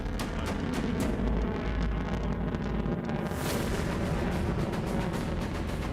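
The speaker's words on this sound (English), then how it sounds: "first stage ignition to missile. The US tests its Doomsday missile." First-stage ignition of a Minuteman III intercontinental ballistic missile launched off the California coast, a loud sustained rumbling roar with crackling blasts that swells and brightens midway, with no voices.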